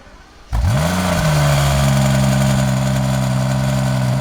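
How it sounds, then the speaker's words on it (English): A Rolls-Royce Cullinan fitted with an aftermarket exhaust starts up and revs while still cold, a sudden loud burst settling into a deep, steady, close rumble that holds to the end. "This Cullinan has an exhaust."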